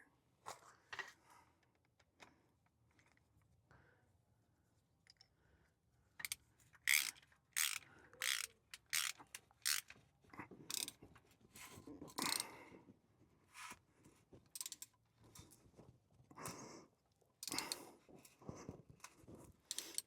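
Ratchet wrench tightening a tie rod bolt on a car, a series of sharp clicking bursts in irregular runs, close and fairly loud, separated by quieter pauses.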